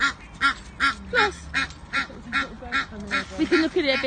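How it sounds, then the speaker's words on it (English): A goose in a backyard honks in repeated loud nasal calls, about a dozen evenly spaced blasts with short gaps, close by and alone. "we've got a noisy goose"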